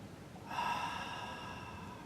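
A steady, hissing ujjayi yoga breath drawn through the nose begins after a brief quiet moment and continues evenly, close and fairly soft, with no talking.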